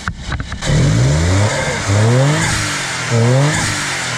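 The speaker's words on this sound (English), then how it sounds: "Let me give it a couple revs." A Suzuki Alto Works engine revs three times in quick succession, each rev rising sharply in pitch then dropping back to a rumbling idle, loud and close.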